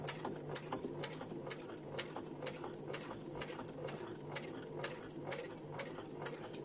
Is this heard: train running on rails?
no